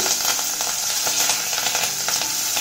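Curry leaves sizzle in hot tempering oil with urad dal for upma, a steady close crackling hiss with small bursts of spattering and no voices.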